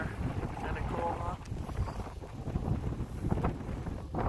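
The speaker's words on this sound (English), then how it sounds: "The wind blowing" Wind blowing outdoors in Alaska, a steady rough rumble buffeting the microphone, loud and close, with someone talking over it.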